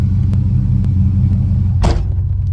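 A Buick Regal engine fitted with Holley EFI idles steadily during a cold-start warm-up, a loud, constant low rumble with a brief, sharper burst near the end.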